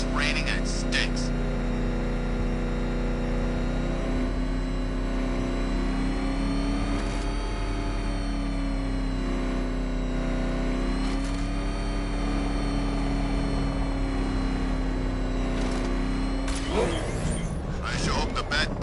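A car engine in a Batman video game holds a steady, droning rev throughout, with voices speaking over it and a brief burst of noise near the end.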